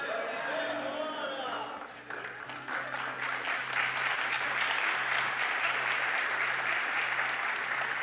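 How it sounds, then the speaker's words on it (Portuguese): Church congregation bursts into applause during a sermon, the clapping building from a voice and low background music into a dense, sustained wash of many hands that stays loud to the end. "Pode segurar o aplauso."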